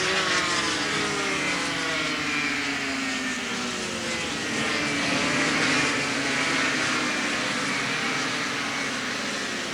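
Yamaha RD 350 two-stroke motorcycles racing at Donington Park in 1983, a dense, continuous engine roar with shifting pitches as bikes pass and rev, loud and without pause.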